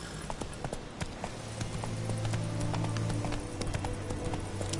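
Hooves of the horse Roach pound in a steady, rapid galloping clip-clop in The Witcher 3, close and continuous over a low ambient bed, with faint speech underneath.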